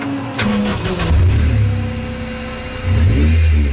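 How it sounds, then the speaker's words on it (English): A Honda Civic Type R VTEC engine fitted in a rear-wheel-drive Mini cranks and fires, then revs loudly in two surges with a brief settle between, close and alone with no talk. "So you just turn the key and then push button start."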